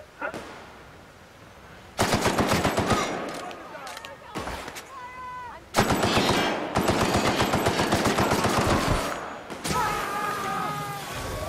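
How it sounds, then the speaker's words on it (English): Loud machine-gun bursts from a firefight in The Outer Worlds hammer in three long volleys separated by short quiet gaps, with voices talking over the shooting. "Who's firing now?"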